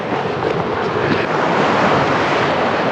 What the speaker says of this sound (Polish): Fala też jest.